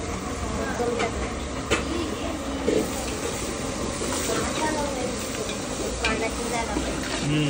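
Onion and kokum frying in a pan for an Agri Koli fish curry, a steady soft sizzle with occasional stirring clinks throughout, under background noise.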